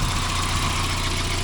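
1991 Mazda Miata with a 1.6-liter engine, rusty with blown-out brake lines, running at a steady idle: a constant low, even engine drone, close and unbroken, with no talking.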